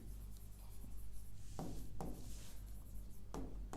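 A pen writing on paper during a chemistry lesson, heard as faint close scratching strokes with a few sharper taps as the pen meets the page, quiet and without talk.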